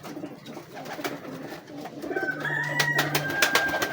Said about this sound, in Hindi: ये चीना कबूतर है